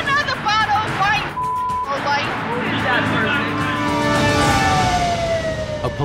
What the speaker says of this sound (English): A police car on neighborhood patrol extinguishes the fiery argument outside the restaurant